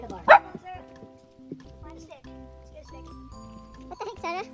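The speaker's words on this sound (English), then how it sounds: "Lady Sarah is ready to bark too." A dog on a muddy trail on a rainy day at Weller Lake, Colorado, lets out one loud sharp bark near the start, then quieter yips and whimpers follow under close talking.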